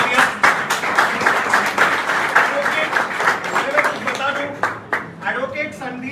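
Loud applause from attendees at a political party joining ceremony and press conference, dense clapping that swells and fades with voices mixed in.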